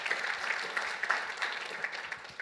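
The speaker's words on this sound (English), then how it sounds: "let's give Aaron another big round of applause" Audience applause after a keynote address at a national congress, a steady, fairly faint wash of clapping hands that continues throughout without speech.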